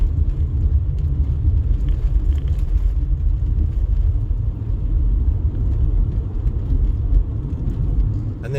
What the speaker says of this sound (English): we have some merging lanes, which always results in traffic slowdowns